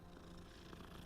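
A cat purrs in a video game, a faint, steady low rumbling purr running without pause for a moment.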